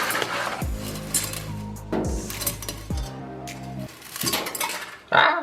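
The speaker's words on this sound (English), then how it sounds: "So we're going to add our pasta to a saucepan." Hard dry fettuccine rattles and clatters into a metal saucepan, with several sharp clinks and ringing metallic tones, close up and fairly loud, no talking.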